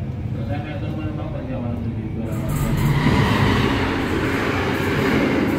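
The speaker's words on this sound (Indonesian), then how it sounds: "Kereta apa nih? Oh, Argo Anggrek." An Argo Anggrek passenger train rolls past on an Indonesian line, a steady rumble of wheels and carriages that swells louder about halfway through and stays close, with voices faintly underneath.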